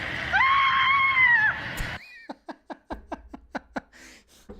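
An actor lets out a long, loud strained scream in a Barbie movie scene, followed by a run of short sharp gasping or breathy bursts in a steady rhythm.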